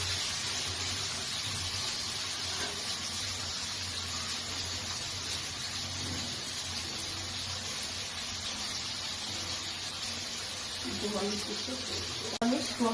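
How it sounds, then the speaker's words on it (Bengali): Potatoes and tomatoes fry lightly in a pan for a Bengali fish curry, giving a steady broadband sizzle and hiss throughout, with faint clinks and stirring toward the end. "এবার আমি আলু আর টমেটো গুলো হালকাভাবে ভেজে নেব।"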